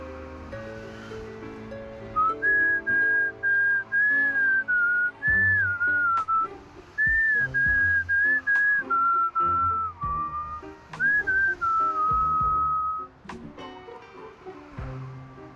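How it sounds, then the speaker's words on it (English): A strange, toneless whistle drifting over a cemetery in Reverse 1999, a wavering airy melodic line in bursts over soft sustained musical backing, with brief pauses between phrases. "A strange, tunnelless whistle drifts over the cemetery."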